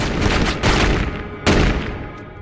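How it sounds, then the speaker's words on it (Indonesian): Gunfire in a film scene as police shoot a resisting man dead, heard as a dense burst of loud shots with a second sharp report later, all close and alone with no talk. "Di sini mereka terpaksa menembak Jojo hingga tewas karena jamet ini melakukan perlawanan"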